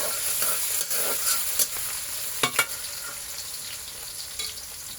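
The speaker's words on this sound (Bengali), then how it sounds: "আমরা এখন পেঁয়াজটাকে ততক্ষণই ভাজবো যতক্ষণ হালকা লাল না হয়ে যায়" Chopped onions frying in a pan for a pangas fish dish, a steady close sizzle with a few brief stirring clicks over a constant hiss.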